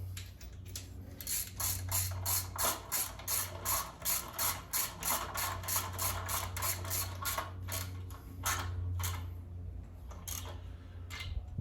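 A ratchet tightens bolts while a transmission is installed in a 1964 Chevelle, giving a close, rapid clicking in repeated bursts over a steady low mechanical hum.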